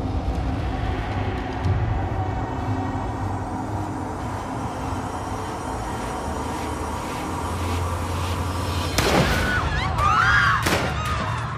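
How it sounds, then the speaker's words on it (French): Two sharp gunshots from a Magnum .44 revolver crack inside an airliner, about a second apart, over the constant hum of the cockpit. "Puis, 2 coups de feu sont tirés."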